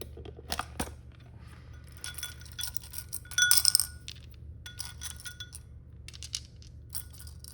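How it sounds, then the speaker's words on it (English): Dice being rolled, a quick series of small hard clicks and clinks close by, bunched into a few bursts against a low background hum, with no voices. "I think I'm gonna roll these dice."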